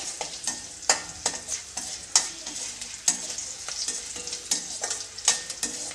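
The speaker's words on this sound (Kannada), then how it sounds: "ಜೀರಿಗೆನ ತುಪ್ಪದಲ್ಲಿ ಚೆನ್ನಾಗಿ ಫ್ರೈ ಮಾಡ್ಕೊಳ್ಳಿ" Cumin seeds frying in ghee in a pan, a steady crackling sizzle broken by sharp clicks of a spoon stirring, close and alone with no voices.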